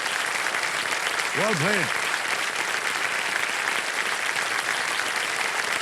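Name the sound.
studio audience applause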